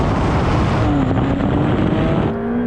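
Drag race between a tuned Porsche 911 Turbo S, a Ferrari 488 Pista Piloti and a Lamborghini Aventador SV: a loud, sustained roar of engines at full acceleration, with a rising gear whine and no talk.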